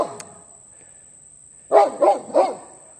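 A dog gives three quick loud barks in close succession after an earlier short yelp, near the listener against a quiet background with a faint steady high whine.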